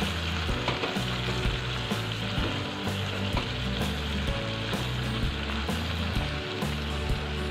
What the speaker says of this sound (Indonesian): Aku juga mau langsung aja masukkan daun kemangi, aduk-aduk lagi sampai tercampur rata.